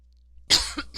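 A single close cough from a woman bursts out abruptly after near silence, followed by a short throaty tail.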